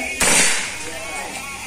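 Predator Mahameru full-CNC air rifle with a Swedish barrel fires a single sharp, loud shot that cracks at once and fades into a short decaying tail, heard alone.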